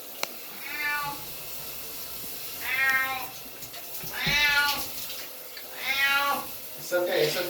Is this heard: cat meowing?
yes